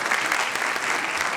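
Applause from an audience at the Faiz Mela 2014 literary event as Arshad Mahmood is welcomed onstage: dense, steady clapping from a large crowd, loud and close, with no voices over it.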